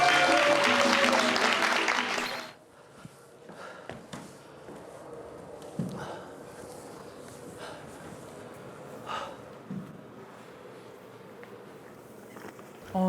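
An audience claps loudly in a brief burst of applause just before a performance, then it drops away to quiet rustling and scattered small noises.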